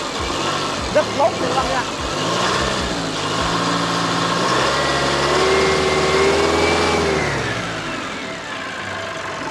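Used Japanese forklift with an electronic fuel-injection engine running: a steady, smooth idle that rises in pitch as the throttle is revved, then settles, with someone talking over it close by.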